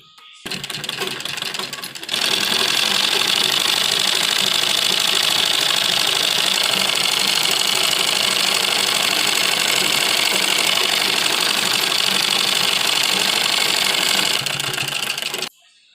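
Sewing machine stitching a kurta, running in one long continuous rattling whir after a brief start, loud and close, with no talking.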